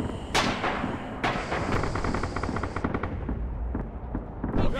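Machine gun fire in the WWII shooter Red Orchestra 2, a rapid burst of repeated shots rattling fairly close, set off by two sharp louder blasts and with more gunfire and battle noise around it.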